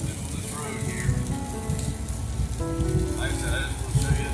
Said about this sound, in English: I just want to show you the rain and the fall trees